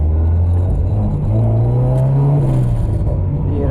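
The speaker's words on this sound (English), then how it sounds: "The idling kind of weird now, kind of low." A lean-running Honda Civic engine idles low and uneven up close, a steady rough rumble with slight wavering in pitch throughout.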